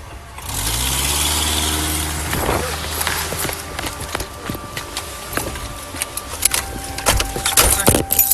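A car engine idles steadily at a police traffic stop, a low constant rumble with harmonic hum, while keys jangle and clicks and clatter come and go in the foreground.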